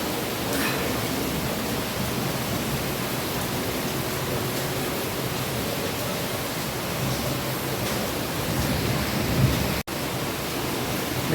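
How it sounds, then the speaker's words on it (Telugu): Heavy rain pours down in Hyderabad as a dense, unbroken roar close by, with a deep thundery rumble under it and a sudden brief cut near the end. "చూపిస్తాం మీకు ఎంత ఘోరంగా వాన పడుతుందో"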